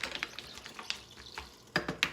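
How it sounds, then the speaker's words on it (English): A spoon stirs mussels in a pot under a bunch of parsley, making a few soft scraping, clinking and shuffling sounds with brief louder clatters near the end, with no talk. "So I'm just going to stir it a bit,"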